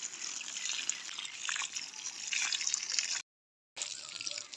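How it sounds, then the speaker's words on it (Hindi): Water splashes steadily onto onion beds in an open field, a soft continuous hiss and trickle that stops briefly and then picks up again. "अब मैं आ गई हूँ नीचे वाले प्याज में पानी डालने के लिए"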